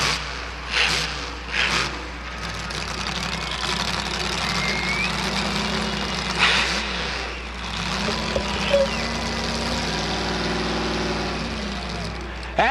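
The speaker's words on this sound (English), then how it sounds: "Here comes Boris, the monster truck, with one more run up and over the cars." Boris the monster truck roars through a run up and over cars at a truck and tractor pull, its loud engine revving in bursts, then holding a heavy, sustained rumble with crowd and announcer noise around it.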